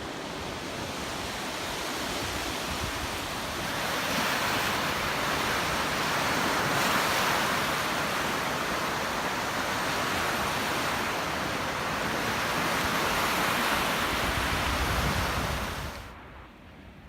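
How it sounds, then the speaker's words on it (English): Steady roar of surf washing below the dunes, broad and continuous like wind-blown waves, with gusts of wind over the microphone, during snowfall; it fades out at the end. "you can maybe hear the water down there at the bottom"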